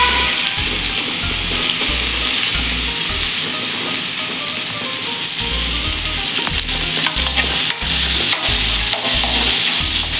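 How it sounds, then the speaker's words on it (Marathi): Onion frying in oil with mustard seeds, cumin and asafoetida, a continuous loud sizzle under repeated rhythmic scraping stirs of a wooden spoon against the pan, close by. "तेलामध्ये आपल्याला कांदा छानपैकी परतून घ्यायचा आहे, थोडासा लालसर होईपर्यंत"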